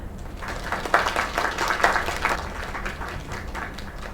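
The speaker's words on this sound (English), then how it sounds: "Another round of applause." A short burst of clapping and applause from a small crowd, steady and moderately loud for a few seconds.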